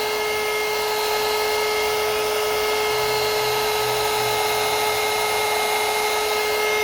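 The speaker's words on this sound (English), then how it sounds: "And this heat gun is hot. This is a very hot heat gun." A very hot heat gun blows on epoxy resin jewelry made with transparent cellophane, producing a loud, continuous airy roar with a steady whine. It runs unbroken throughout, with no talk.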